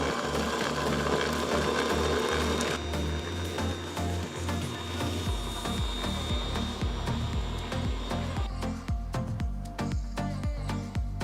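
An Ankarsrum stand mixer whisks egg and sugar at medium speed, giving a dense mechanical whirr that shifts into a quick rhythmic ticking and clatter as the speed changes, loud and close with no talk.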